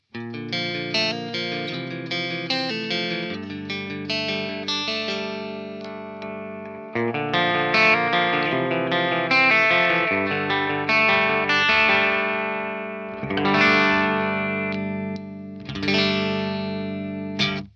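A distorted electric guitar plays sustained chords and ringing notes through a driven budget Marshall amp, loud and close, starting on a split neck pickup, then a short pause before the tone thickens on the bridge humbucker.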